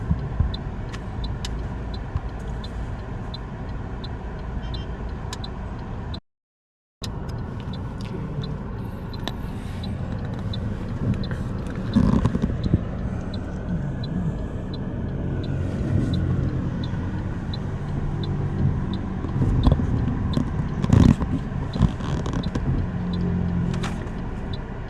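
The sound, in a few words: Toyota Corolla Altis 2018 automatic driving on test drive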